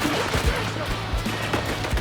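Rapid, overlapping gunfire bursts crackle through a Battlefield 2042 Conquest match, a dense fusillade with scattered louder shots over constant battlefield noise.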